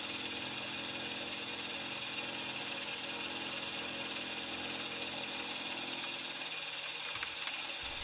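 A milling machine grinds steadily through a metal bracket, a constant whirring whine with a faint scraping edge near the end.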